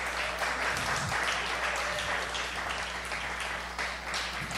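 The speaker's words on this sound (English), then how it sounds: "Let's give them a round of applause for their..." Audience applause fills a small room, steady dense clapping from many hands for about five seconds at a fairly quiet level, with no voices over it.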